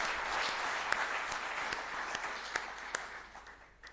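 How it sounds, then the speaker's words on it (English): Audience clapping for the lead conversationalist at a public dialogue on traditional spirituality and herbal medicine, a rousing wash of applause that gradually fades toward the end. "I would like to request that we give our lead conversationalist a rousing applause."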